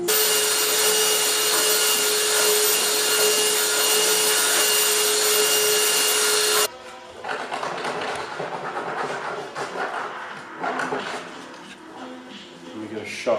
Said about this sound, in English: I'm gonna use like the sander, fine tools, touch all of this up